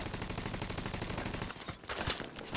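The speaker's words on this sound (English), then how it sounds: "My turret's shooting more things." Rapid automatic gunfire from a deployed turret in The Division 2, a dense rattling burst that runs steadily, then breaks into scattered sharper shots near the end.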